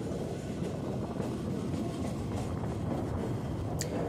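A local train on the Howrah-Tarakeswar line running at speed, a loud continuous low rumble and roar of the carriage with faint rattles throughout, heard from on board.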